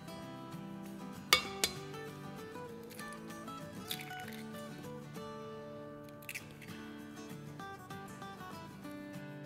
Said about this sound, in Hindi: तो इसको हम क्रैक करेंगे और सफ़ेदी को इसमें डालेंगे।